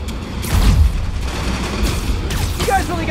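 Enemy gunfire in Marvel's Spider-Man Remastered during the Silver Sable mission, a loud, dense burst of overlapping shots and booms that rolls on without pause, with a voice briefly speaking over the clatter.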